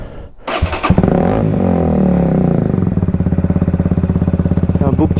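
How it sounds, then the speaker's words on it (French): A 125cc motorcycle with a twin-outlet exhaust fires up after a brief quiet gap, then revs hard, settling into a loud, close, rapid pulsing idle. "je vous fais réécouter l'échappement pour ceux qui l'auraient pas entendu"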